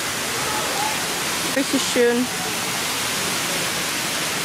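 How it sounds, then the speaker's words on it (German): A waterfall in downtown Houston roars as a loud, steady broadband rush throughout, with someone speaking briefly over it near the middle. "Hier sind Leute und die machen schön Bilder von diesem wunderschönen Wasserfall hier."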